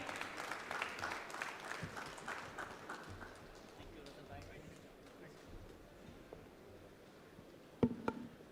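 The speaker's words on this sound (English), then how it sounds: "Come on, have a big round of applause for Russell Bhai." Audience applause for Russell Bhai at the iijjs Signature 2026 event, a dense wash of clapping that is strongest at the start and then thins into scattered claps and room noise, moderately distant, with a sharp knock near the end.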